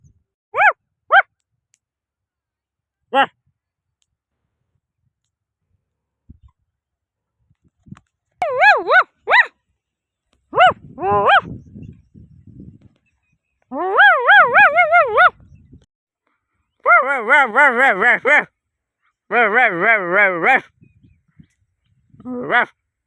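A dog yips, whines and howls in scattered bursts, with high wavering cries that come in short clusters and then longer drawn-out runs against an otherwise quiet background.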